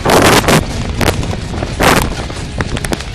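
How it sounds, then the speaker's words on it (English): Airsoft guns firing at an outdoor skirmish game, a few loud, sharp clusters of shots with gaps between them, close by and dominating the scene. "all of you fire"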